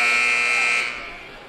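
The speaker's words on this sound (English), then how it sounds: "And the buzzer sounds." A loud, sustained electronic buzzer blares at a girls' high school basketball game in a gym. It holds steadily for about a second and then fades into the crowd noise.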